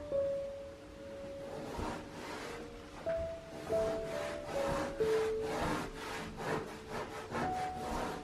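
A beauty tool scrubs tile grout under firm pressure, making a rhythmic back-and-forth rasping that runs steadily and close with no talk, while faint tonal squeaks come and go.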